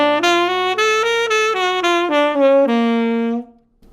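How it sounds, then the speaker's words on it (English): Electric guitar runs an augmented scale over a sustained major chord, a quick series of bright, distinct single notes stepping up and down before a final note rings and fades to silence; no voices. "On a major chord, it's going to sound like this."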